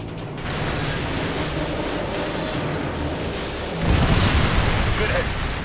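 AGM missile strike explosions in the shooter game Call of Duty Modern Warfare 2. A steady rumbling battle noise swells into a louder, crackling blast near the end, with a voice speaking over it.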